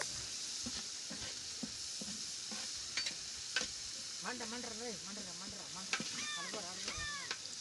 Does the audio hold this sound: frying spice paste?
yes